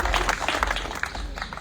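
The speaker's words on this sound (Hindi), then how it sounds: "जोरदार तालियां बजाएं।" Scattered clapping from a village crowd at a thank-you gathering in Madanpur, uneven and close, with individual claps standing out over a murmur of voices.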